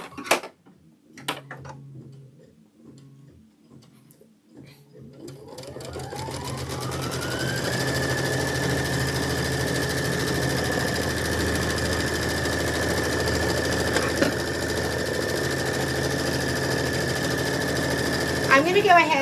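Sewing machine stitching a quilt block, first a few brief clicks and taps, then the motor winding up into a long continuous steady hum and whir, running alone and close.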